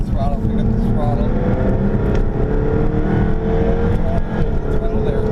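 Jaguar F-type R Coupe engine accelerating on a track, a continuous engine note with rising harmonics heard from inside the car while an instructor talks over it.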